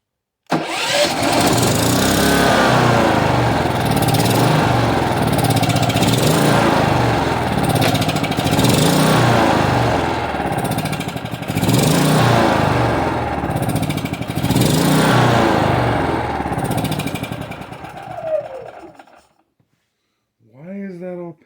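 A Westinghouse iGen 4500df generator engine running on gasoline with its airbox off, a loud close steady drone that surges and dips in waves before dying away, with a brief sound afterward.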